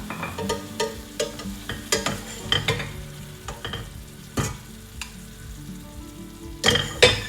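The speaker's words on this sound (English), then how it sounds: "and give it a quick mix" Fried okra (bhindi) stirred in a pan with lemon juice, giving a soft sizzle under a run of spatula scrapes and knocks against the metal, with a few sharper clacks near the end.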